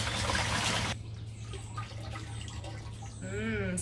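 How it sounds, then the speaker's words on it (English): Paint water is poured from one bucket into another through a hole cut in the lid, first as a loud rushing gush that settles into a steady close trickle. "transfer the water from this bucket into this bucket just through the hole that I cut"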